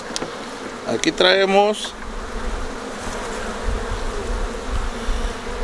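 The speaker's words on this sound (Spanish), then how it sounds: "si se fijan que traen polen las abejas" Honey bees hum in a dense, continuous buzz at an open hive while beekeepers inspect pollen-laden frames, someone speaking Spanish briefly near the start.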